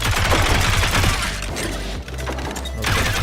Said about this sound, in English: The reload on the nail gun is kind of ridiculous too